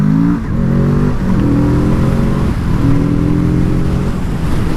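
A 2019 Kawasaki Z650 motorcycle engine pulling hard through the gears, rising in pitch several times with short breaks at each shift, loud and steady over wind noise.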